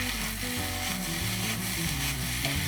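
Diced red and green peppers sizzle loudly and evenly in a hot pan while being stirred, with a steady crackling hiss over a low hum.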